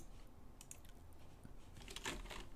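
Quiet computer keyboard typing while working in Nuke compositing software, a few faint, scattered key taps with a small cluster near the end, low in level against a soft room hiss.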